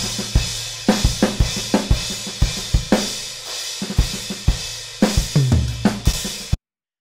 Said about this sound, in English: How do you take a raw live drum recording like this?